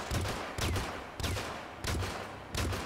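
Machine gun bursts blasting in a Western-style video game, five loud, sharp bursts spaced roughly half a second apart, each with a booming low thud and a decaying tail, with no voices.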